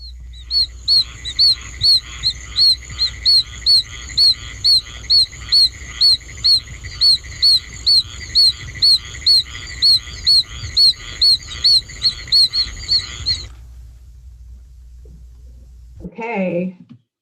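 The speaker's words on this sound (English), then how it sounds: "A much smaller toad, the oak toad, Bufo quercicus, has a totally different voice" An oak toad (Bufo quercicus) calls in a field recording, a regular train of about twenty short, high-pitched peeping whistles, loud and clear, then stopping before a brief faint trailing sound.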